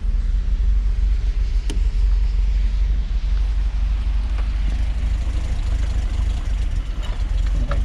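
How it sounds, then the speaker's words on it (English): An old Mercedes-Benz 300SL engine idles after sitting for nine years, a loud steady low rumble with a slightly uneven beat, running on its own without any voices. "God knows the last time this poor car ran. But it doesn't sound too bad."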